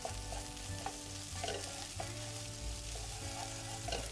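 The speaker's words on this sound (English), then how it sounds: "Next, garlic. You can't have a risotto or an orzotto without garlic. In that goes, and we need to cook that off." Garlic sizzling in a pan for orzotto, a low steady fry with a few faint spoon scrapes, quiet and close with a soft hum beneath.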